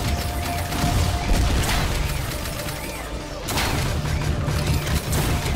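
Rapid gunfire and booming grenade blasts in the retro shooter Ion Fury, a dense, loud barrage with a brief lull midway before the explosions and shooting pick back up.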